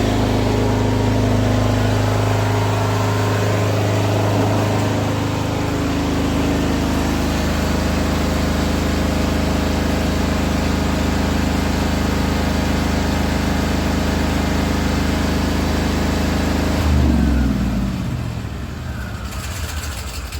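A portable generator converted to run on gas with a conversion kit drones steadily at a close, loud, even idle, its tone shifting and dropping near the end as the load or throttle changes.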